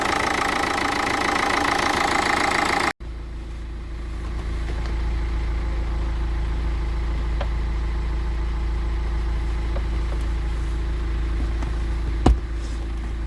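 The 1.5 diesel engine of a Renault Samsung SM5 with a suspected DPF fault and engine warning light runs at a steady, close idle hum after a brief louder burst at the start.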